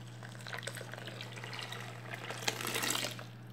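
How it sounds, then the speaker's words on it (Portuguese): Water running and splashing into a container of homemade fabric softener as it is topped up with about three litres to mix, a steady close tap-like flow that swells louder near the end. "E vou jogando a água para ele poder se misturando."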